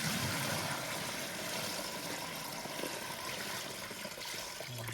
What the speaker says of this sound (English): So we just want to pour some water into the sump area.